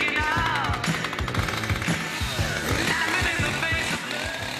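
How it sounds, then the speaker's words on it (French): Chainsaw carving a tree trunk for a sculpture, the engine snarling and pulsing in rapid bursts as the blade bites into the wood, loud and close throughout with no talk. "c'est d'utiliser l'outil, la tronçonneuse, pour arriver à une forme"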